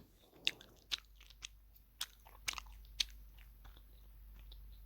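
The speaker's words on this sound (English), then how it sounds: "I'm just chewing some gum right now" Close, wet mouth clicks and smacks of gum being chewed, irregular and fairly soft against a quiet background hum.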